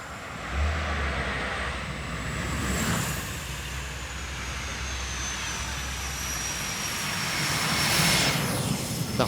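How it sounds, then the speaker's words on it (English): A 1971 Lotus 56B gas turbine race car running at the Goodwood Festival of Speed, a sustained high whistling turbine roar with a low hum beneath, swelling as it passes, heard alone without talk. "that very unique sound of the gas turbine engine"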